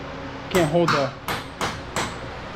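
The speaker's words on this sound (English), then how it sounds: "Can't keep the punch on it when the chisel goes off." Hammer blows on a punch and chisel against a Turbo R front prop shaft in a workshop, five sharp metallic strikes about a third of a second apart, close and loud, ringing briefly.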